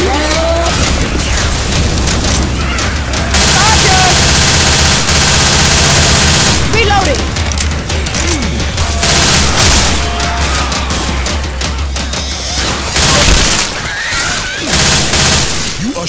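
Left 4 Dead 2 gunfire: sustained loud close bursts of automatic shooting with booms and overlapping shots, pausing briefly then resuming, with game voices calling out over it.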